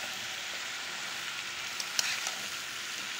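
Chopped bottle gourd is stirred into fried spice masala in a pan, giving a soft, even sizzle with a single light utensil tap partway through.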